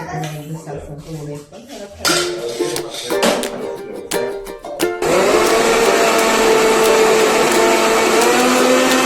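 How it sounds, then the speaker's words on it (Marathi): A mixer grinder whirs loudly and continuously as it grinds chutney for medu vada, starting after some kitchen clatter and brief sounds, close by. "नंतर मग थंड करून तुम्ही मिक्सरला वाटून घ्या"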